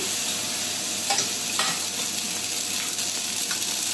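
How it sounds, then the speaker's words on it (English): Pasta tossed into a preheated pan, sizzling loudly and continuously up close, with a few brief stirring knocks over the steady frying hiss. "So I heated my pan, preheated this pan. Just gonna throw the pasta in."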